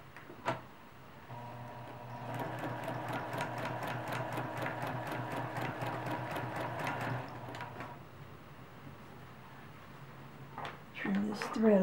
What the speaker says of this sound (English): So if it makes it easier for you to stitch that line, you can do it.